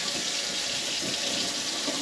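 Steady running water from a tap flowing through sausage casings for wild turkey breakfast sausage, a constant close hiss and splash with no break and no talk.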